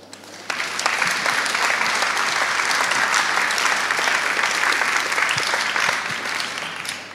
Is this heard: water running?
no